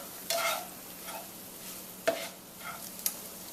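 Chili powder and cumin get stirred in a hot frying pan for nachos, a soft sizzle with a few scrapes and taps of a utensil, fairly quiet and close, no voices.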